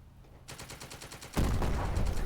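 Rapid bursts of World War II gunfire in The Troop strategy game, a rattling stream of shots that grows suddenly louder and denser partway through, with no voices.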